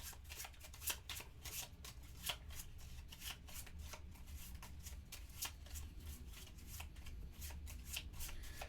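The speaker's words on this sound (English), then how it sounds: "We're going to shuffle these up." Cards for the Tiny Epic Dungeons board game being shuffled by hand, a quiet close run of repeated riffles and flicks in an irregular rhythm lasting several seconds, with no voice heard.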